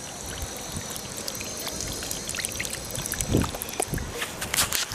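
Water trickles and splashes from a public outdoor drinking fountain in a park in Spain. The light running water sounds against a noisy outdoor background, with a few louder splashy bursts toward the end.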